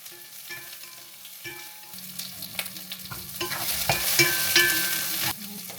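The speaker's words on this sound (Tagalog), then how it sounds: "Sabayan ko nitong sibuyas." Onion sautéing in avocado oil in a pan alongside mussels, a steady close sizzle with scraping stir strokes that swells louder toward the end.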